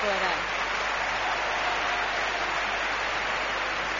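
Audience applause at a live mystery radio show event in Lugo, a steady dense wash of clapping from a crowd that holds evenly throughout.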